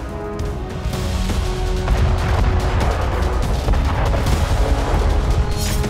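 Artillery shelling on the Ukraine war front near Kupiansk and Sumi, heard as a dense, continuous rumble of booms and blasts without pause, loud and close throughout.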